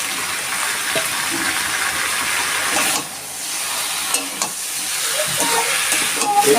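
Prawns and potato fry in a pan with bananas, giving a steady close hiss and sizzle with a few soft stirring clicks.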